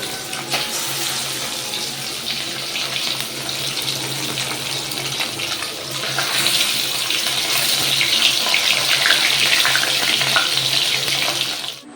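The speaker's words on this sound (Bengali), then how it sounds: "দেখো এখন মাছটা আমি ভেজে নিচ্ছি" Turmeric- and salt-rubbed fish frying in a pan in a home kitchen, a loud steady hiss and crackle of hot oil that grows slightly stronger midway and continues without pause.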